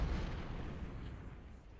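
Deep rumbling artillery fire from an American Civil War battle at Second Bull Run in the strategy game Ultimate General: Civil War, a steady low boom sustained throughout with no clear separate shots.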